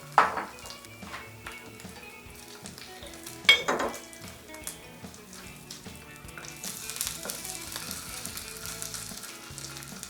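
Tuna patties frying in a pan, a steady crackling sizzle throughout with a couple of clinks of a utensil against the pan, close and moderately quiet.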